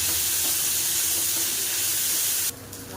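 Onions sauté in a pan for vegetable paya with a loud, dense hissing sizzle that suddenly drops lower for the final half second.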